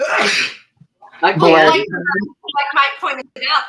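A sneeze bursts out at the start, loud and close, followed by a pause and then people talking.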